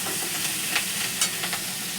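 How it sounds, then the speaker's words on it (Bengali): Eggplant and potato pieces frying in a pan, a steady close sizzle with soft stirring scrapes and a few brief clicks of a utensil. "ভাজা ভাজা করলাম, লবণ দিলাম"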